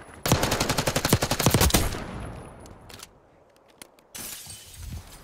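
Call of Duty: Black Ops 6 gunfire: a loud, close, rapid burst of automatic shots that tails off into scattered single cracks, followed by a renewed noisy burst.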